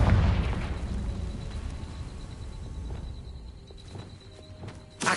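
Confringo blasting spell exploding in the Hogwarts Legacy video game, a heavy boom at the start that decays into rumbling debris, followed by quieter scattered pops and footsteps and a short burst near the end.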